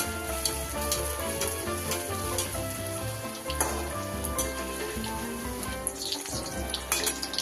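Malpua batter fries in hot oil with a loud, continuous sizzle and bubbling, punctuated by occasional light clinks and stirring sounds.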